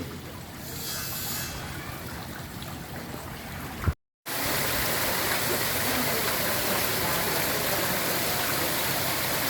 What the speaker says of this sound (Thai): สวนย่อมเล็กๆ มี น้ำตก